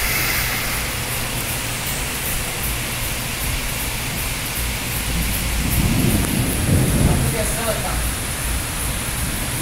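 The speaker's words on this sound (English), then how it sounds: "Yeah, but it's raining pretty bad." Steady heavy rain hisses throughout a thunderstorm in Van Cortlandt, the Bronx, New York City, with a low rumble of thunder swelling near the middle before easing back into the downpour.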